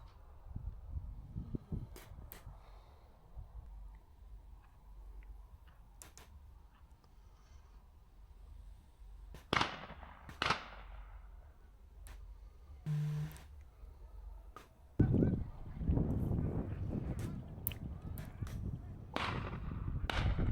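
Shotgun shots ring out on a partridge shoot in Northumberland, a few sharp, separate reports spaced across the drive against open-air background noise, with a louder flurry of cracks toward the end.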